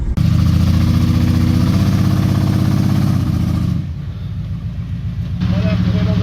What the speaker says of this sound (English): The Gladiator got high centered on a log, so we're gonna back up to him and tow him off